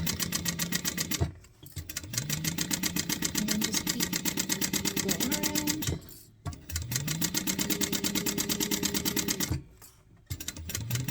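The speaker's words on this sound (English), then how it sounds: "We're going to back stitch really well a couple times because, you're going to be pulling on that to close it, or to turn it out." Sewing machine back stitching a seam on a bucket hat runs in three steady, rapid mechanical bursts separated by short pauses, loud and close.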